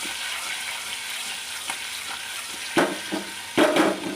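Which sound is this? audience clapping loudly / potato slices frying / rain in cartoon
potato slices frying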